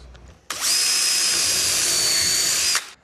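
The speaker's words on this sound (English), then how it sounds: "now we have to screw it together. And for that we use pocket screws" A power drill whirs steadily for about two seconds at close range, driving pocket screws into PVC trim, then spins down and stops.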